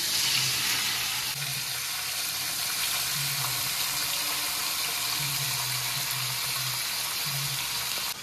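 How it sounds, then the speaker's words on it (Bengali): Marinated small fish and potatoes sizzle in a pan of shallow oil with dried chilli and whole cumin, a continuous close crackling hiss with faint clinks now and then. "এবার এই যে মাখিয়ে রাখা মাছ আর আলুটাকে কড়ার মধ্যে দিয়ে দেব"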